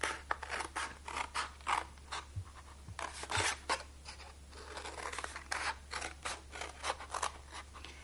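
Scissors snip through paper in a quick run of short, crisp cuts for an origami box, close and fairly quiet, with a steady low hum underneath and no talk.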